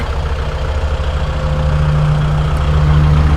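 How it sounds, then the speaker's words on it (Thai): Kubota L5018SP tractor from 2020 idling with a steady, loud low diesel rumble and a constant even throb, close to the listener with no talk. "รถสตาร์ทติดง่ายนะคะลูกค้า ระบบไฮดรอลิกใช้งานได้ปกตินะคะ"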